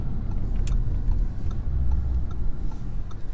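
A 2019 Audi RS3 drives along with its engine giving a steady low droning hum under road and cabin noise, accompanied by faint ticking clicks scattered through it.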